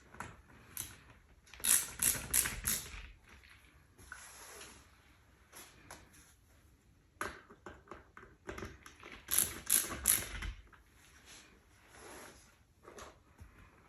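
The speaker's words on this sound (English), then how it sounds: "I'm going to tighten the screws on the control units." A screwdriver tightens screws on the control units of a top-down/bottom-up blind headrail, giving bursts of quick ratcheting clicks in two main runs with softer handling noises between, close up and with no talking.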